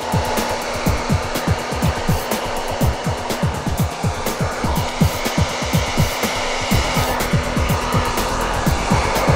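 A hair dryer blowing steadily during a blow-out styling with a round brush, its constant whooshing hum broken by rapid rhythmic brushing or airflow pulses, close and fairly loud.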